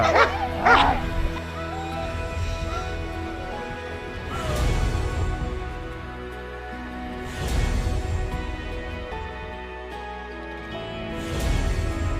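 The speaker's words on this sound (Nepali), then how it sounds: "जर्मन सेफर्ड डग बढी रिसाहा र चञ्चल स्वभावको हुने" A German Shepherd in Nepal Army dog training barks in a few loud, separate bursts spaced several seconds apart, with quieter yips and whimpers in between over a steady background hum.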